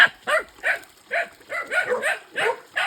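A dog barks repeatedly at close range, about eight sharp, evenly spaced barks in quick succession, with no talking over them.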